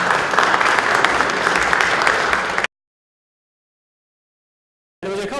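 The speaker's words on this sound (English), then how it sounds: "Please give him a big round of applause." Audience applause for a congressman being welcomed to the stage, a dense, loud burst of clapping that cuts to silence partway through and then briefly resumes near the end.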